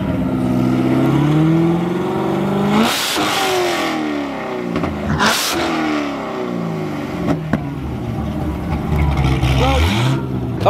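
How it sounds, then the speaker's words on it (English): A supercharged exotic supercar engine on a dyno at a Eurofed dyno day revs up in two sharp climbing sweeps over a steady mechanical drone. Crowd chatter sits underneath. "Chad, let's hear the supercharger"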